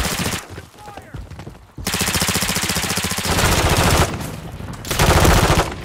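Sustained automatic gunfire in the Call of Duty: Modern Warfare III video game, loud rapid bursts of machine-gun fire in several stretches with brief breaks, dense and close, with faint voices in the mix.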